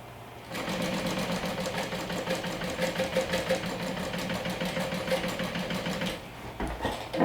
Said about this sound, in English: you're going to stitch it down with 1/4 of an inch seam allowance